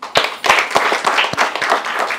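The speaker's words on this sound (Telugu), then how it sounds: "సో ఒక్కసారి అందరం చప్పట్లు కొడదాము." A small group claps together at a makeup academy event, a few loud sharp claps at first and then steady uneven applause that lasts about two seconds, close by and with no voices over it.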